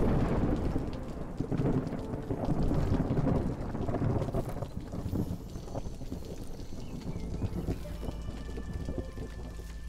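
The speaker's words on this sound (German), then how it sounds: "So, der Sturm kommt jetzt langsam." An approaching thunderstorm in the video game Against the Storm brings steady rain and deep rolling thunder, loud and dense at first, then easing into a lighter, constant patter.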